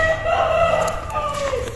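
A rooster crows once nearby, a long drawn-out call that rises and then trails off over almost two seconds against faint background noise.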